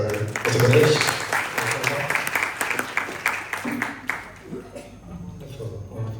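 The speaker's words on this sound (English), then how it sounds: "One more round of applause for Mr." A small audience at a musical evening in a seniors' home claps for a singer, moderate and scattered, fading out as voices talk near the end.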